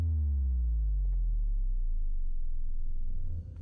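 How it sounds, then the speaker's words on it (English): A descending, low synthetic tone sweeps downward and drones on in a video game, Garten of Banban, when eggs are fed to a creature, loud and alone, with no talking. "Why does it sound like that when I feed it eggs?"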